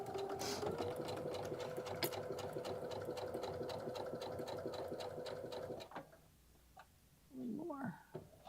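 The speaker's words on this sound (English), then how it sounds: "The thing I like with the baby lock with your foot control, you can do one stitch at a time." A Baby Lock sewing machine run by foot control stitches in a rapid, even rhythm of ticking needle strokes for several seconds, then stops, and a voice speaks briefly near the end.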